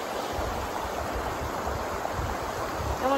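A shallow hill stream near Siliguri in the Darjeeling foothills, carrying very little water, flows with a steady close babbling rush that continues evenly throughout, with no voices.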